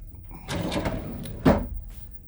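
A cabin drawer on the Carnival Conquest cruise ship slides open with a soft scraping rumble, followed by a brief bump as it stops, close by.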